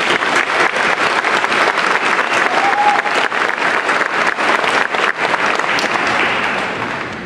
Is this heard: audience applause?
yes